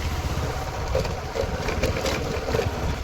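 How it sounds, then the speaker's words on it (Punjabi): Motorcycles ride through a flooded road beside waterlogged paddy fields as the Sutlej rises, giving a steady, close engine drone mixed with churning water and no clear talk. "ਮੋਟਰਸਾਈਕਲ ਵੀ ਆ ਰਹੇ ਆ ਜੀ"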